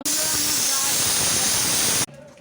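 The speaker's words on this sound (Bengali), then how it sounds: "বন্ধুরা গ্যাসটা জ্বেলে দিলাম, প্রেসার কুকার চাপিয়ে দিয়েছি" Pressure cooker on a gas stove venting a loud, continuous steady hiss of steam for about two seconds, then cutting off abruptly into quiet.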